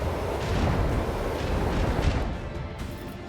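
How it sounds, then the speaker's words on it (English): Macro cannons firing in the video game Warhammer 40,000: Rogue Trader, a dense, continuous rumble of heavy booming blasts that roll into one another, loud and sustained with no speech over it. "Macro cannons, open fire!"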